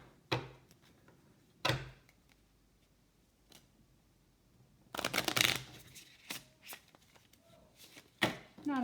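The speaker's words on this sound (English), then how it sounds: "Not a very good shuffle, but I'm going to do one or two more." Playing cards being riffled and bridged in a few short bursts, with quiet pauses between them, close and crisp.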